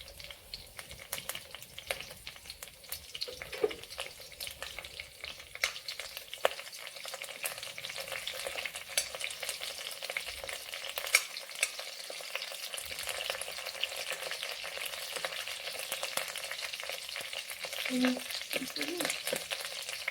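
Mustard seeds and curry leaves sizzle and crackle in hot oil in a pan for a Mangalore egg drop sambar. The steady, hissing fry goes on with scattered pops and a few stirring scrapes, and nobody speaks.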